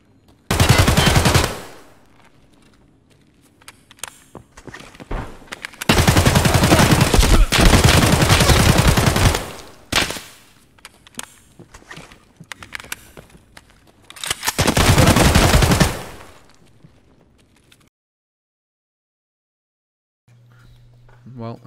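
Loud bursts of automatic gunfire in the shooter Escape from Tarkov, the weapon cutting off abruptly from a glitch; three long bursts separated by quiet gaps, with faint speech under the quieter stretches.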